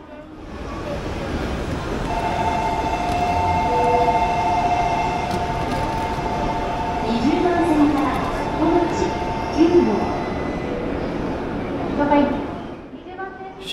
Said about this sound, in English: This is one of the E5 series trains, heading for Shinamoi.